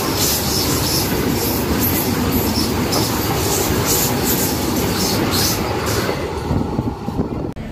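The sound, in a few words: Tirupati–Secunderabad Vande Bharat train passing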